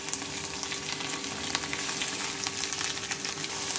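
A paste of garlic, ginger, green chilli, cumin, coriander and dried chilli fries in a pan, making a continuous close sizzle and crackle with occasional stirring and a faint steady hum behind it.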